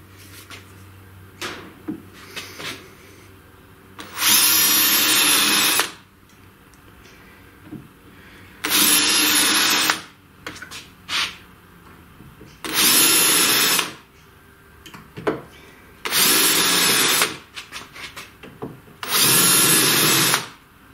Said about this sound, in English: So then I can drill the drilling size to thread it, which in this case is 5 millimeters.